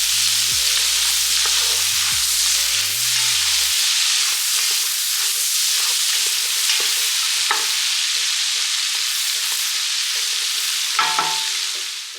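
Onions frying in a pot for creamy bacon potato soup, a steady loud sizzle and crackle throughout, with a few faint clinks and stirring knocks, no talk.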